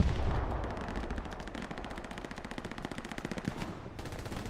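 Rapid machine gun bursts in the Hell Let Loose video game during a competitive match, with dense rattling fire throughout and sharper, closer rhythmic bursts toward the end.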